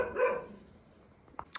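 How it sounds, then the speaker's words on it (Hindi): A dog barks once loudly nearby indoors, followed by quieter short yips and a faint high squeak toward the end. "कुत्ते की आवाज़ ज़्यादा आ रही होगी ना"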